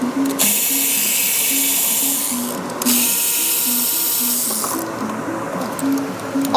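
Power tool spinning out valve cover bolts on a Ford 5.4 engine, two loud whirring bursts with a pulsing motor note, separated by a brief pause.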